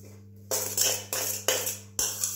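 Utensil stirring a mixture of cauliflower, parsley, olive oil and salt in a bowl, a few scraping strokes in quick bursts with brief pauses between, near and moderately loud.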